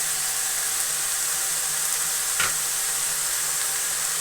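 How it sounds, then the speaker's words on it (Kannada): Country chicken fries in oil with masala, a steady soft sizzle and hiss throughout with one brief clink or stir near the middle, no voices. "ಒಂದು 3 ನಿಮಿಷ ನಾನು ಹುರ್ಕೊಂಡಿದ್ದೀನಿ ಎಣ್ಣೆಲಿ"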